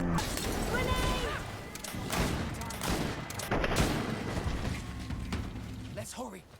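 Gunfire and a grenade blast from the video game Greedfall, with rattling bursts of shots and mechanical clatter amid combat noise, while voices talk over the action throughout.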